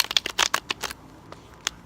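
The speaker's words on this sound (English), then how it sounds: "I'm done shuffling." Tarot cards being shuffled in quick riffling bursts, a rapid flurry of crisp slaps followed by a couple of separate taps, close and fairly loud.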